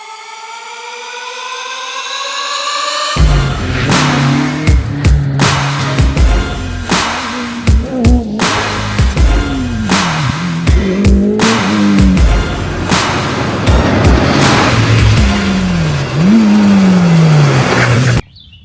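Race cars at a slalom race in Chamblon rev and accelerate hard past a close microphone, engines climbing and dropping through gear changes with sharp bursts, loud and continuous after a brief quieter start.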